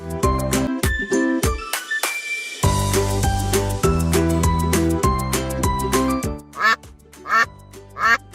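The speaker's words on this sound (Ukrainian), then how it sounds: "Качка." Loud, nasal duck quacks in rapid succession, close up, with a few separate quacks trailing off at the end.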